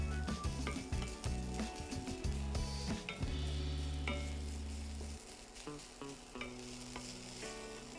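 Onions and ginger sautéing in a pan, with steady stirring and scraping over a constant sizzle; near and moderately loud, no talking.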